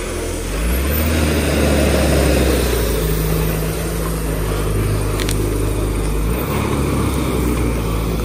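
A vehicle engine drones loud and steady while driving off-road on a trip from Sindagi to Bengaluru, a continuous low rumble with slight shifts in pitch and no talk.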